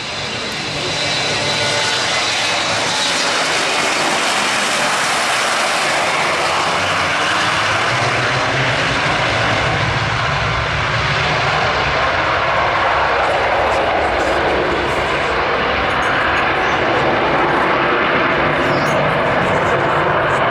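At the Farnborough Air Show, a Boeing 727 tri-jet airliner roars overhead in a long, loud, sustained jet rumble that stays strong throughout, with a commentator talking over it.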